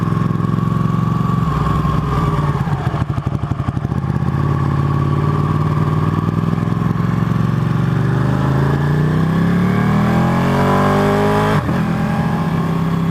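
A Ducati 899 Panigale rides along a town road on market day, its engine loud and close throughout, the tone dipping and then climbing steadily as the bike accelerates through the gears, with no talk.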